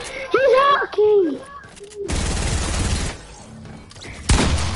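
Bursts of gunfire in an online shooter video game, loud and close, with excited shouting voices over the start.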